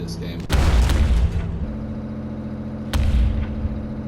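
Tank main cannon firing in a tank combat video game, two heavy booming shots a few seconds apart, each a loud sharp blast followed by a low rumbling decay over a steady engine drone.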